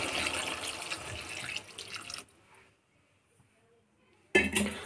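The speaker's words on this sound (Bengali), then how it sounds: "তো আমি একটু জল অ্যাড করে দেব" Water is poured into a fish and potato curry, a loud rushing splash that stops abruptly into near silence before a short burst of clattering returns.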